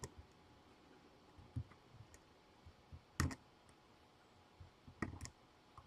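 Scattered clicks of a computer keyboard sound quietly and close by, coming in irregular taps with two louder, sharper strikes, against a faint background hush and no talking.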